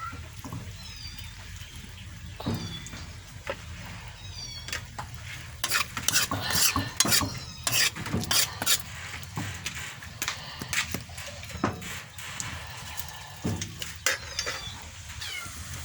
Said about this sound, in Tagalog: At syempre, para maghalo yung lasa, hahaluin natin siya.